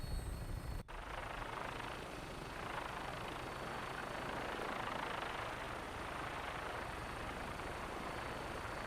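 Vertibird helicopter lifting off in Fallout 4, a steady loud rotor and engine roar that holds evenly after a brief opening cut, with no voices over it.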